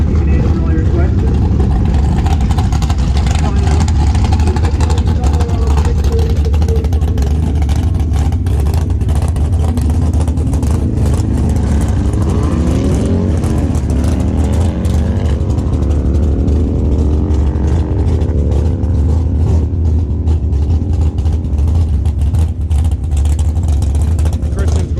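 Drag race cars roar at a drag strip, a loud continuous engine din with revving and accelerating sweeps through the middle, heard close and sustained throughout.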